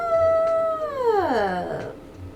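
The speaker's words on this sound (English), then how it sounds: "No, Walter, you can't meow outside the man's room" A cat meows outside a room door: one long, drawn-out, wavering yowl that slides downward in pitch, close and fairly loud, with no talking.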